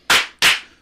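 Two crisp hand claps land close together, sharp and bright, about a third of a second apart, each with a short decaying ring and no voices around them.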